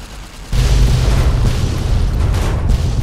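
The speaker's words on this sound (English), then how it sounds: "We just detonated a warhead." A warhead detonates in Fallout New Vegas with a sudden, loud, close blast that swells into a long, heavy roaring rumble and never fades.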